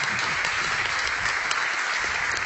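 A crowd applauds steadily and densely throughout as a player is introduced during a Clash of Clans Town Hall 12 update livestream event.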